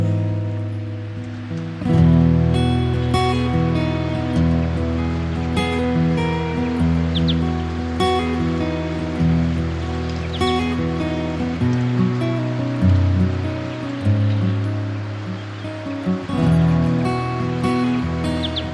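Waves lap on the beach at Moon Point on Fraser Island, a steady wash of surf that swells and recedes in gentle surges over nearly twenty seconds, with no one speaking.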